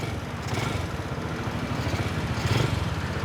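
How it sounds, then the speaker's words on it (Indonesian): A Honda Win motorcycle engine, freshly rebuilt, idles unevenly nearby, a rough low putter that rises and dips throughout. "Jadi motor udah nyala, udah ya."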